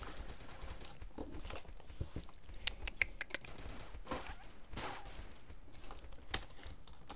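Fast, irregular computer keyboard typing while playing the game BeGone: clustered clicky keystrokes in quick bursts with short pauses, close and moderately loud, with no talking.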